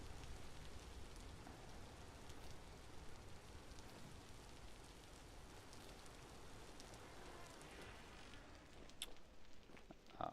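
Steady rain falls in the Vintage Story video game, a dense continuous hiss of drops on surfaces that holds at an even level throughout, with a few brief clicks near the end.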